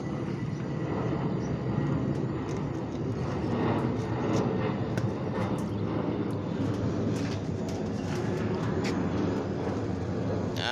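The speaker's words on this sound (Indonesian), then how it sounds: "Wah, ada pesawat, guys." A Lion Air passenger airplane passes overhead at a roofing job, its broad steady jet roar loud and continuous throughout with no talk.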